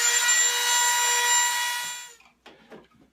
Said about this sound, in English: it's going to get pretty noisy here in just a minute using some power tools